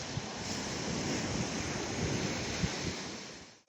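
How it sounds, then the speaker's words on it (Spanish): Calm sea washing onto the beach at Playa El Terrón in Huelva with a light wind rising, a steady broad rush of surf and wind noise on the microphone, with no talking. "El mar está muy tranquilito, se está levantando un poquito el viento"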